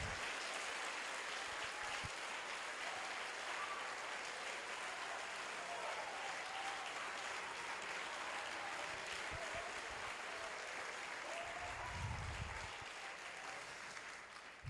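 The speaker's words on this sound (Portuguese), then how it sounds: "você pode dar um glória a Deus e aplaudir ao Senhor?" Church congregation applauding, a sustained wash of many hands clapping at moderate distance, steady throughout and fading slightly at the end.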